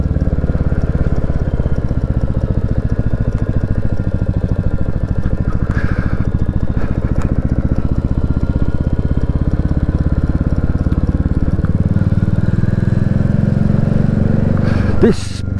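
A Royal Enfield Classic 350 motorcycle ridden through Cornwall near Fistral Beach, its low thumping single-cylinder engine running steadily and close, rising slightly near the end, with a brief sharp noise just before it finishes.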